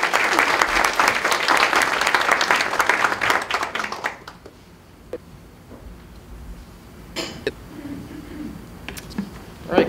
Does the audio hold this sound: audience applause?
yes